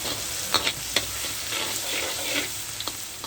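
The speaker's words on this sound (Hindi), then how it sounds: "हम सबसे पहले डालेंगे आपका चॉप्ड गार्लिक और red chilli. Make sure heat आपकी हाई फ्लेम हो" Chopped garlic and red chili fry hard in hot oil over a high flame, a steady, dense sizzle close by. A few sharp spatula taps and scrapes cut through it, and no one speaks.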